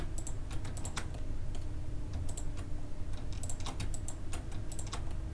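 Keyboard and mouse clicks while selecting objects in Blender: faint, quick, irregular clusters of light taps over a steady low background hum.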